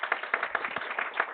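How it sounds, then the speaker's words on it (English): An audience at an international taxation lecture meeting claps to welcome a speaker, giving a light, thin patter of applause that is moderately close. "Please welcome him with a very loud applause."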